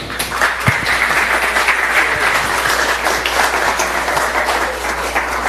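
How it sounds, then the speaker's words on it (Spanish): A lecture audience in Mexico gives a speaker a loud, steady round of applause as he is welcomed. Dense clapping fills the space evenly from start to finish over a low hum. "recibámoslo con un fuerte aplauso"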